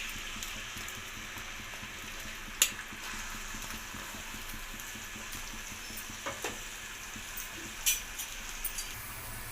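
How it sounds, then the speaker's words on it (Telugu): Onions fry in hot oil for an egg masala curry, giving a steady, soft sizzle with occasional faint clinks and stirring scrapes over a quiet background. "ఇప్పుడు ఆయిల్ వేస్తున్నాను. దీంట్లో ఎర్రగడ్డ వేస్తున్నాను."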